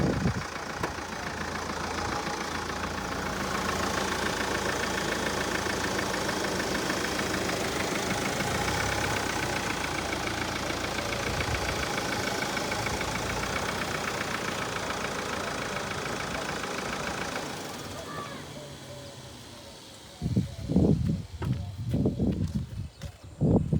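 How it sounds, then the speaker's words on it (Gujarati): A car with a fault that has the engine warning light on runs at a steady, rough idle close by. The hum fades after about seventeen seconds, then short, louder bursts of noise follow. "ગાડી સ્ટાર્ટ કરી લો."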